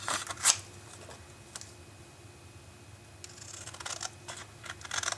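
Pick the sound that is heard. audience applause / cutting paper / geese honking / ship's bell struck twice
cutting paper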